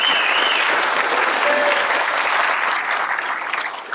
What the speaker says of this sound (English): So big round of applause for Debbie as well.